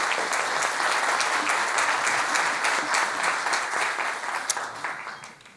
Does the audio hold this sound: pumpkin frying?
no